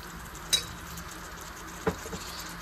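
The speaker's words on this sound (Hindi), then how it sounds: "लहसुन को हल्का सा प्याज के साथ हल्का सा भूनेंगे।" A soft, constant sizzle of garlic and onion frying in a pan, with a couple of sharp clinks of a utensil against the metal.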